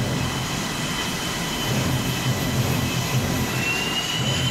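Engine of an aircraft moving without authorization from a hangar, a steady loud roar with low rumble and a faint high whine, continuous and unbroken throughout.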